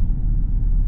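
A BMW 530D with a stage 2 tune and hard-cut limiter launches at full throttle in first gear, a loud, steady low engine rumble that stays dense and unbroken for the whole brief moment.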